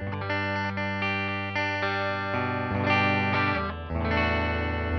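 Electric guitar played through the humbucker pickup into a clean amp channel, a sustained, harmonically rich chord ringing loud and steady, then changing chords partway through, with no voice over it.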